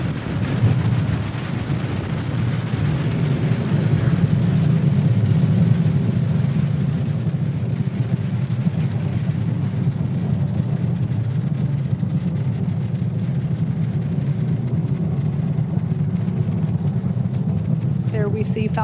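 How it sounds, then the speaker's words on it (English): Falcon 9 rocket lifting off from Cape Canaveral Space Force Station, a loud, steady low rumbling roar that holds for the whole stretch, with some commentary mixed in under it. "There we see Falcon 9 has successfully lifted off from Cape Canaveral Space Force Station"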